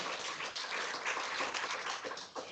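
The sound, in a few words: applause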